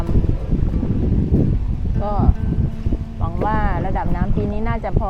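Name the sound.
rowing boat moving on floodwater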